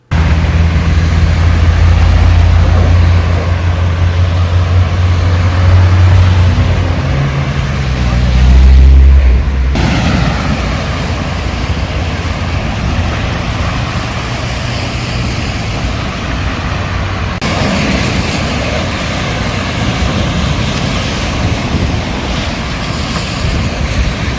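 Cars push through a storm-flooded road between Karabük and Safranbolu, a loud continuous wash of water and wind noise with engine rumble underneath, heavy splashing throughout.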